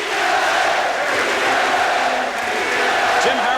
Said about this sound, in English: you hear the crowd is chanting to the Sixers, beat L.A.